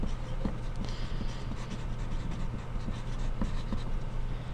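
A pencil scratches across drawing paper as a name is written, making a soft, continuous scratching texture with faint strokes under a steady background noise in a room.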